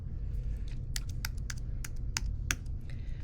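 Keystrokes on a computer keyboard, about a dozen crisp taps in an irregular typing rhythm over a low steady room hum, close and fairly quiet with no talking.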